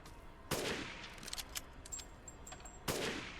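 Two sharp, loud shots from the Stake Magnum revolver in the video game Resident Evil Village, spaced a couple of seconds apart over a quiet, faint background.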